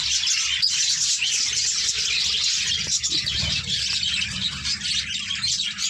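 Budgerigars in a breeding colony of nesting pots chatter and chirp continuously, a thick bright twittering that fills the space at close range.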